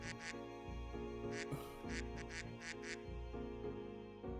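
A person imitates a duck, giving a run of short nasal quacks in uneven bursts, several in quick succession, close and fairly soft, with no other talking.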